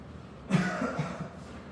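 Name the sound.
cough caused by chalk dust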